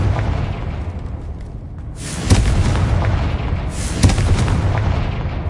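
Confringo blasting spells in Hogwarts Legacy go off as two loud booming blasts, each a sharp crack followed by a rumbling tail, over a constant background roar.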